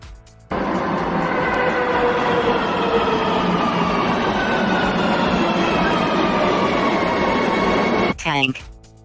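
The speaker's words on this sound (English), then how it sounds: "Subway." A subway train rumbles and roars steadily past at close range, with a rising whine, then a brief squeal before the sound stops.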